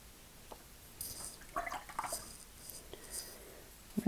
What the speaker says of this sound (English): Rinse off my brush